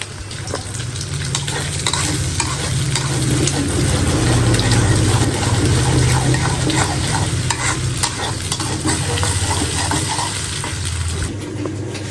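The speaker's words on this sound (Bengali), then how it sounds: "তো ভাত যে কটা আছে সবগুলো ভেজে দিই" Rice and raw fish with onion fry in a pan, sizzling loudly and steadily up close with frequent stirring scrapes throughout.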